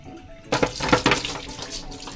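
A kitchen tap runs over a giant local barnacle at a Hong Kong seafood market, a close, steady gush with uneven splattering bursts as the water hits the shell.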